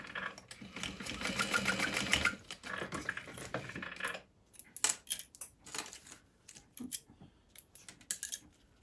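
Sewing machine top stitching a zipper tab for a tote bag, a fast rattling run for about four seconds, then short stop-start bursts with clicks and pauses between them, close and clear.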